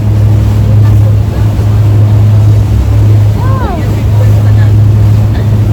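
A boat motor drones steadily and loudly on a water crossing between Al Seef and Deira, a constant low hum with water noise, a brief whistle-like sound cutting through midway.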